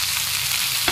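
Onions and tomatoes fry in a pan for a sour fish curry, a close, steady hissing sizzle with a slight stirring scrape near the end and no talking.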